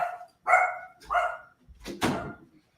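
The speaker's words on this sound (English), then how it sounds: "This dog's about to start barking." A dog barks several times in an indoor shop setting, four separate woofs spaced roughly half a second apart, close and moderately loud, with no talking during the barks.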